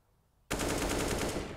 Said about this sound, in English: Oh, the wall bang.